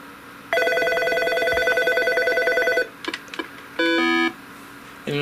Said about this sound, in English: So I'm going to go ahead and call from my cell phone.